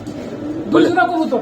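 Pigeons coo at a pigeon market where fancy and Giribaz birds are sold, low soft calls rising under close, steady talk from people nearby.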